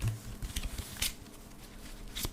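Tarot cards being shuffled by hand during a love reading, giving soft papery riffles and taps in several short bursts, close and fairly quiet with no talk.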